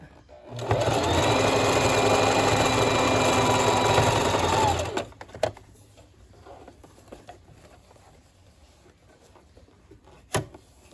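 A sewing machine stitches trim onto a stripper one-piece, running as one loud continuous whirring burst for about four seconds, then stopping, leaving faint handling clicks and rustles.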